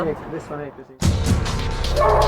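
An abandoned puppy taken in by the Houston SPCA barks and whimpers up close, short yips and whines over steady background noise, with a person talking alongside.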